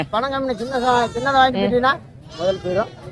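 Young goat kids bleat at a livestock sale, a run of loud, wavering cries near at hand, one after another with brief gaps, while voices talk in the background.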